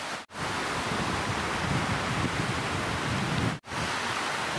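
Strong wind blows at Kahai beach in Kalianda, Lampung, roaring as loud, constant broadband buffeting against the microphone, with only two very short dips in the gusting.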